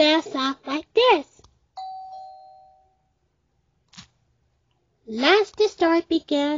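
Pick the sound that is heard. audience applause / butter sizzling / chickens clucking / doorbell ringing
doorbell ringing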